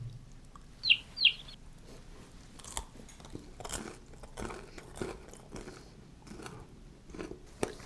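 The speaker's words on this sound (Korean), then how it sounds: "이번에 치킨 먹어볼까?" Someone eats fried chicken in a classroom with soft, irregular crunches and chewing sounds up close. Two sharp, high squeaks come early on.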